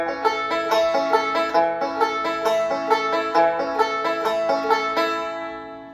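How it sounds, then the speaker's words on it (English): Bright bluegrass banjo picking runs through an alternating square roll, two related square-roll patterns trading back and forth in a steady, even rhythm, solo and close. "you get the alternating square roll, which sounds like this"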